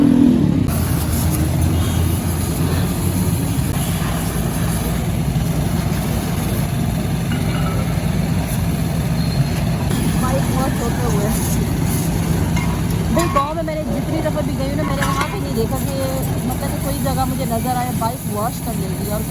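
Steady traffic on a busy road, a continuous low rumble of idling and passing engines near and far, runs throughout while a motorbike is washed, with talk over the roadside noise.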